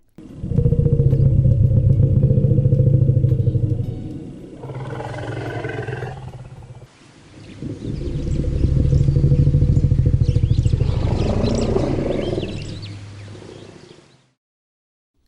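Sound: elephant calls, roars and trumpeting

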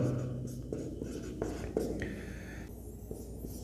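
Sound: writing on a board during a maths lesson

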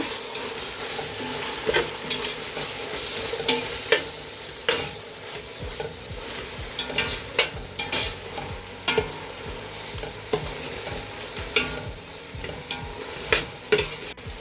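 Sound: stirring and frying coriander and mint leaves in a pot

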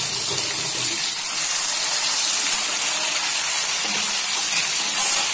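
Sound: tomatoes added to a cooking pan

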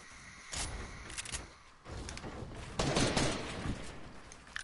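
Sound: gunshots from a video game

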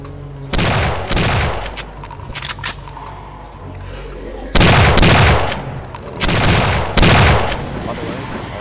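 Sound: gunfire from weapons in the video game Doom 2

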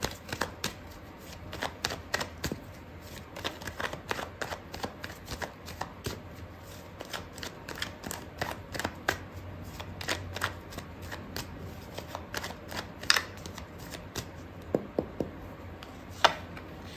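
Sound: shuffling tarot cards

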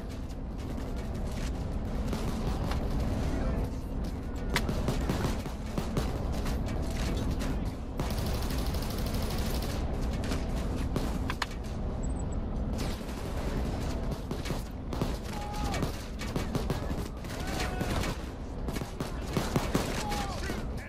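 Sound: gunfire in the video game PayDay 2

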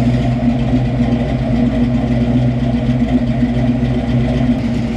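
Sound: car engine idling and settling

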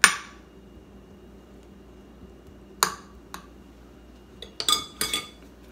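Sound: spoon tapping blackberries down in a baking dish

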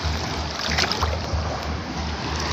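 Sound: waves at the beach

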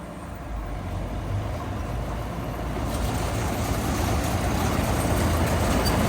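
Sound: John Deere 955 combine harvester engine running

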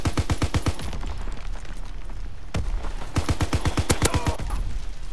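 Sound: MG 81 light machine gun firing in Call of Duty WW2 video game

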